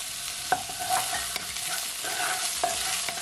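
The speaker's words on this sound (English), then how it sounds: "And you're just gonna leave it to saute, guys, for at least 10 seconds" Ginger sizzles in a hot pan as the base for pepper steak, a bright steady frying hiss broken by several sharp scrapes and taps of a utensil stirring, with no talking.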